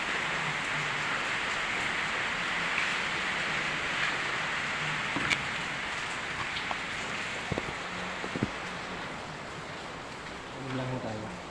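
Steady heavy rain hisses throughout, with occasional drips and knocks nearby and a brief voice near the end.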